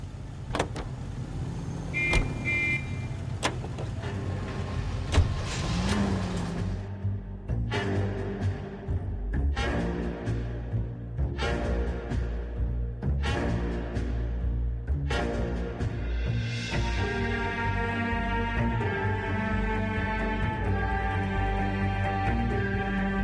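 A car driven in the video game L.A. Noire gives a loud, continuous engine drone with shifting revs and a few sharp mechanical knocks. No one speaks.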